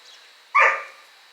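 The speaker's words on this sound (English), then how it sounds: "let's go see if I can find this dog over here" A single sharp dog bark rings out at close range, one short loud burst after a quiet stretch, inside a house in Sicily.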